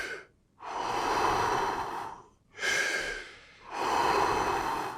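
Deep forceful breaths in a breathing exercise, three long broadband rushes of air separated by short gaps, close and loud with no talk over them.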